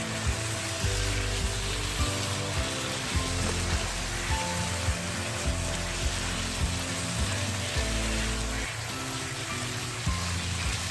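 Julienned carrots and capsicum sauté in a hot pan with a steady, crackling sizzle like light rain, with soft rhythmic knocks of stirring throughout.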